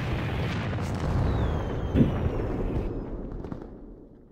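A grenade detonates in the online shooter AVA, a broad rumbling boom that swells, peaks sharply midway, then decays and fades out, alone without voices.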